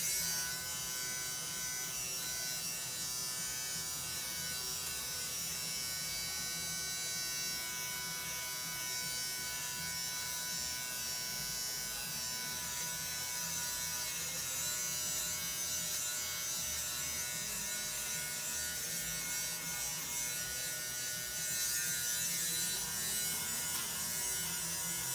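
A fabric shaver drones continuously over a sweater, a steady close electric buzz holding for the whole stretch with faint scratchy variation as it passes over the knit, no talk.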